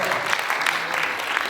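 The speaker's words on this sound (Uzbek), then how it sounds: "bir qarsak chalsak" An audience at a gathering honouring writers breaks into applause, a dense, even patter of many hands clapping throughout the short moment.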